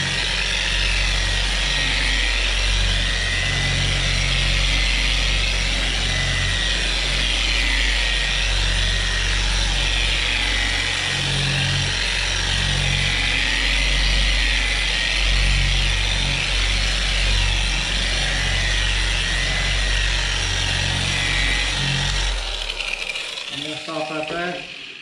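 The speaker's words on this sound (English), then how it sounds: "You're going to be going up and down the buffer." An electric buffer polishing black car paint runs as a loud, steady motor whine with broadband hum for most of the stretch, then cuts off abruptly near the end.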